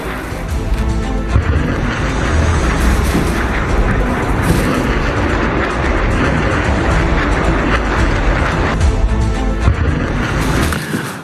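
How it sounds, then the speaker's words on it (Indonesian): Continuous loud, dense rumbling and booming of mortar fire in a Hezbollah attack on Israel in southern Lebanon, heavy low thuds and crackling blending into a sustained roar for over ten seconds, no voices. "Pejuang Hizbullah kembali melakukan serangan menggunakan bom mortir ke Zionis Israel ke Lebanon Selatan"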